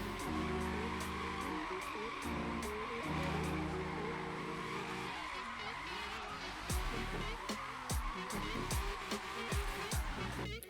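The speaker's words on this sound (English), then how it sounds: "drifting in Forza is damn near perfect" A car drifting in the Forza Motorsport racing game, its engine droning at high revs while the tires squeal and skid in repeated bursts, loud and continuous, growing choppier as the slide goes on.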